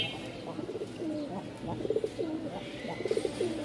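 A male Lal Sundari pigeon coos in repeated rolling phrases, close by, with a few short breaks between bursts and faint background noise.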